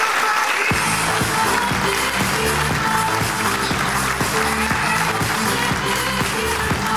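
Studio audience at a Women's Club show breaking into loud, sustained applause, dense clapping throughout with music beating underneath.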